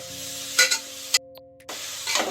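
Grated carrots for carrot halwa are stir-fried in a pan, with a few scraping stirs and soft sizzling bursts separated by brief quiet gaps.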